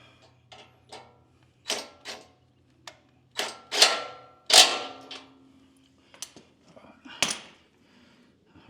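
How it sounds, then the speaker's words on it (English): A bullbar being bolted onto a 1988 Toyota 4Runner, heard as scattered metallic clicks and clanks of tools and hardware, a few louder knocks in the middle, with quiet stretches between. "let's try and bolt this up."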